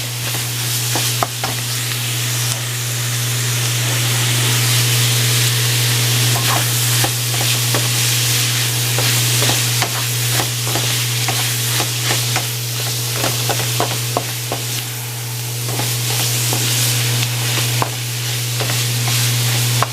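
Garlic sizzling and frying in a pan for chicken fried rice, a steady, close crackle with intermittent scrapes and stirring clicks over a constant low hum, no talking.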